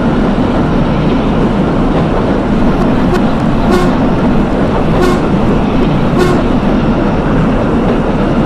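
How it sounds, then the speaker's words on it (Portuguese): In the Hmmsim 2 train simulator, a Serie 3000 commuter train sounds its horn at night on the Rio Grande da Serra to Paranapiacaba line. Short loud toots rise over a heavy, constant rail rumble. "Acionado a buzina"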